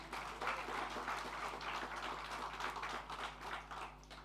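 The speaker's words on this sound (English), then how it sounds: "I'd like us to clap for our MC of the day." An audience claps steadily for the master of ceremonies at a technology summit in Kigali, a dense, even wash of applause lasting several seconds with no break.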